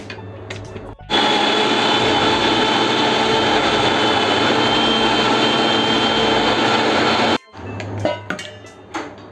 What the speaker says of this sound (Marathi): तर आता मी हे मिक्सरला लावते.